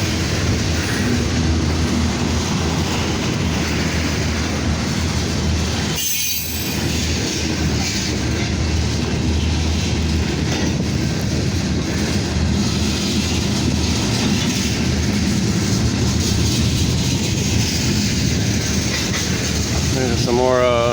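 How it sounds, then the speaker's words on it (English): A freight train with boxcars rolls by loud and close, a continuous heavy rumble of cars with steady clatter over the rails, a person speaking briefly over the noise. "Some more, this is a boxcar coming."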